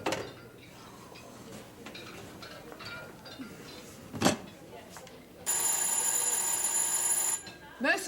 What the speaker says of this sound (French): Monsieur Dreux, téléphone!